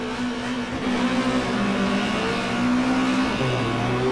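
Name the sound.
Peugeot 405 race car engine revving at race start, GTR2 video game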